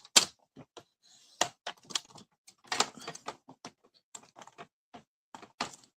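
Paper being cut into thin strips for a pop-up card, with crisp irregular snips and clicks that are close and quiet, spaced unevenly with short pauses between them.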